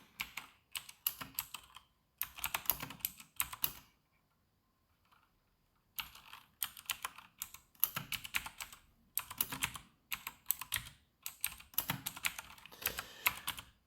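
Rapid bursts of clacking keystrokes on a mechanical keyboard, close and crisp, broken by a few seconds of silence before fast typing resumes in quick clustered runs.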